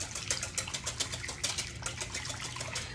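A whisk beating a wine marinade for grilled shrimp in a bowl, making fast, steady, close clattering strokes that continue throughout.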